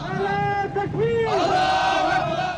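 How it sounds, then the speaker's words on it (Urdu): A tribal rally in Chaman backing the Pakistan army, where a large crowd chants slogans together in loud, sustained unison. Raised voices swell and rise over a dense background of crowd noise. "اس موقع پر قبائلی عوام نے پاک فوج کے حق میں بھی نعرے بازی کی۔"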